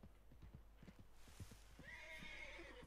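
Horse from the Red Dead Redemption 2 video game, first a run of hoof clip-clops, then a loud, close whinny with a drawn-out shaky neigh that carries to the end, no talk over it.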